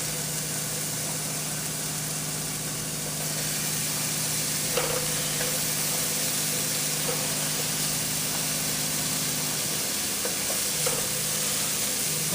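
Onions sizzle on a griddle, spread flat for a cheeseburger, with a steady hiss and crackle that continues throughout, joined by a low background hum and a few faint clicks.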